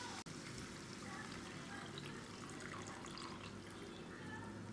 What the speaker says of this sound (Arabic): غادي نزيدو دابا واحد الكميه ديال الماء